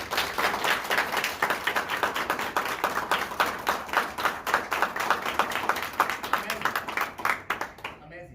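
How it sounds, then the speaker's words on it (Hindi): Loud audience applause fills a hall, a crowd clapping hard in a fast, driving rhythm that holds steady for several seconds before cutting off abruptly. "देखते हैं आप अपने लिए कितनी जोरदार तालियां बजाते हैं"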